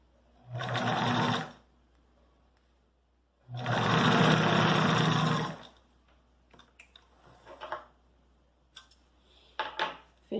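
A sewing machine stitching the side seam of a pair of shorts runs in two bursts of fast, close, buzzing stitching, followed by quieter handling clicks and rustles of fabric.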